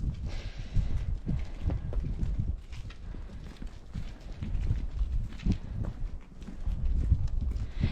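A donkey walks away outdoors, its hooves making soft, irregular clip-clop steps that stay low and fairly faint against a steady background rumble.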